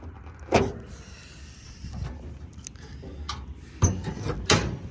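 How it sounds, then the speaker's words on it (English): Hood of a 1966 Shelby GT350 with its original fiberglass-topped hood on a steel frame being opened, a few sharp metallic clunks and latch clicks spread over several seconds, close and fairly loud. "let me get this hood opened up"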